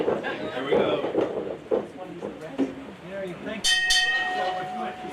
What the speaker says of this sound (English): Folks, the bell has sounded.